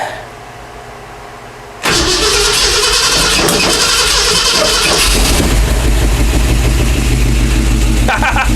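A 1967 Ford F-250 short-wheelbase pickup with an FE 390 V8 and a new starter and flex plate fires up abruptly after a quiet pause, then settles into a loud, rough, steady idle close by.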